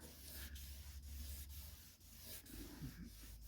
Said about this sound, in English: some of you may not be familiar with wet sanding as a process